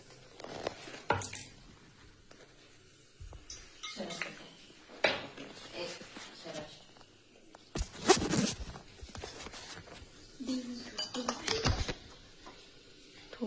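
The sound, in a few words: mixing vegetable Manchurian mixture in a bowl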